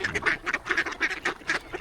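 Ducks quack in a rapid, steady series of nasal calls, several birds close by and overlapping, with no talking.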